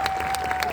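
Audience clapping for a motivational speaker's AWPL event in Bhopal, a brief steady burst of applause from a seated crowd, moderately loud and continuous.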